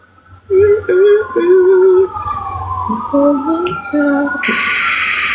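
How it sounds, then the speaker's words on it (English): Loud wailing sirens rise and fall in overlapping tones, with a harsh horn-like blast joining near the end. "There's more sirens."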